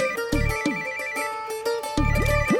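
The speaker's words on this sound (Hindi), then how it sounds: "पाजी गुड्डू दे फोन पे प्राइवेट नंबर" An electronic phone ringtone plays a repeating melodic chirping pattern, clear and close.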